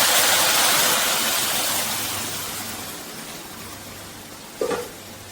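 Hot water poured into a pot of mutton biryani rice, a steady broad rushing splash that is loud at first and slowly fades, ending with a brief knock or clink near the end.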